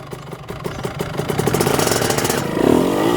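A motorcycle engine revs up steadily and grows louder as a 12-year-old learns clutch control, ending in a sustained roar close by.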